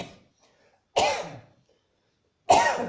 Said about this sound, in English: there's some coughing coming